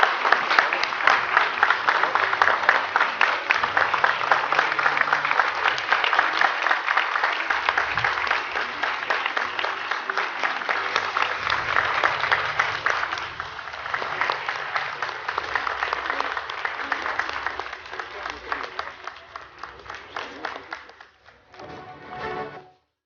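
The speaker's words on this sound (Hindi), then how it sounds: "जोरदार तालियों के साथ स्वागत कीजिए।" Audience at the Amrit Ratna 2023 awards event applauding to welcome India's Heavy Industries Minister Mahendra Nath Pandey, dense steady clapping that runs for about twenty seconds before tapering off, with faint talk underneath.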